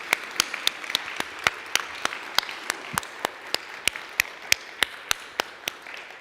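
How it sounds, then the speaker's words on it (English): Sparse applause at a Sunday church service, a small audience clapping in distinct, fairly evenly spaced claps that sound close and moderately quiet over a soft room background. "So let's give Jessica a round of applause"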